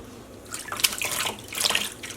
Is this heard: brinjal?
no